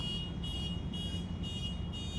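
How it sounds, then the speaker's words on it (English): A car alarm sounds outside at night, a steady repeating electronic whine pulsing about twice a second, fairly loud with no talking. "The car alarm went off."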